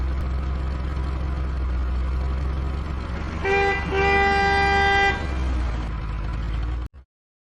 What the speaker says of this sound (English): Now, a horn. That one will work, so add it here.